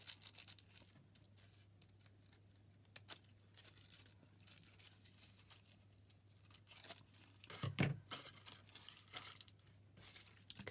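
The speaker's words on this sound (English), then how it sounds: "I'm just going to tear those roughly in half." Material for a craft tag holder is torn roughly in half by hand, giving faint, quiet tearing and rustling over a low steady hum, with one louder rip near the end.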